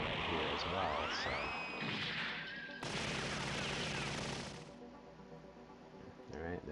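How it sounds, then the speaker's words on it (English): Cannon attack against a Zaku in the SD Gundam G Generation video game, rapid explosive bursts and sweeping whooshes layered with game music, loud and dense before easing off. "We're going to attack with our cannon for that Zaku too"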